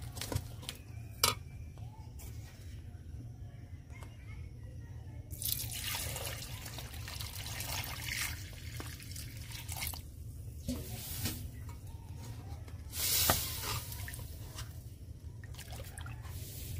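Water poured into mashed dal for fish-head dal, a faint splashing and trickling that grows heavier partway through, with scattered drips and clinks over a low steady hum.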